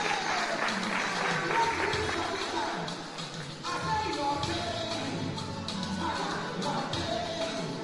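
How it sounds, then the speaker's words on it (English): Audience applause at a graduation ceremony in a Nairobi hall, sustained clapping from a crowd for several seconds with a brief dip midway, mixed with a murmur of voices. "Let's clap for her and then come to stage."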